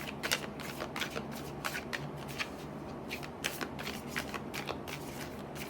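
A deck of oracle cards is shuffled repeatedly by hand, giving a quick series of crisp riffling and flicking bursts at an uneven rhythm, close and fairly quiet, with no talking.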